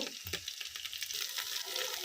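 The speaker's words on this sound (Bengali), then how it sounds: "ছোট ছোট শেপে ভেজে নিচ্ছি। হালকা মুচমুচা করে ভেজে নেব।" Steady crackling sizzle of banana stem and masoor dal fritter batter frying in hot oil, continuous and close, with a few soft stirring scrapes near the start.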